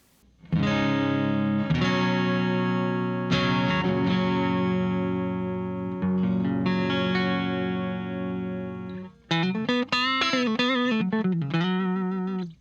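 An electric guitar is played through a Telecaster's neck pickup, with sustained chords ringing out in several long held strums, then a quicker run of single notes with bends, loud and close, with no talking.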